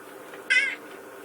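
A single short, clear cat meow, close and moderately loud, against a quiet indoor background.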